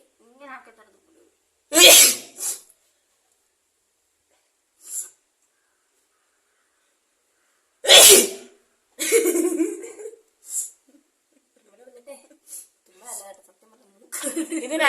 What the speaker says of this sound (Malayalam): ഇങ്ങനെ ആക്കിയിട്ടാണ് തുമ്മുന്നത്.